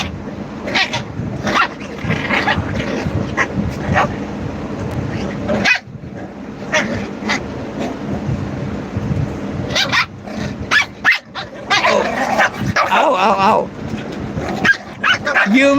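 A pet dog named Einstein barks on command, a few short woofs and yips close by, mixed in with people talking over a busy indoor background.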